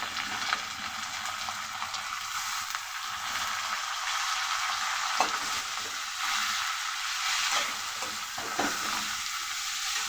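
Thinly sliced bottle gourd going into a hot frying pan with fish roe and being turned over, a steady broad sizzle lasting throughout with soft rustling stir strokes on top, close and even, no talking.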